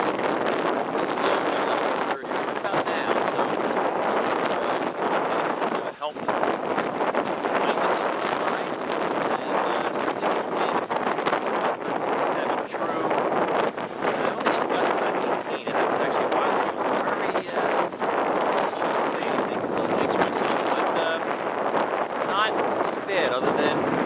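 Gusty wind buffeting the microphone aboard a cruising sailboat under way, a constant roaring rush with surging gusts throughout, and voices talking over it at times.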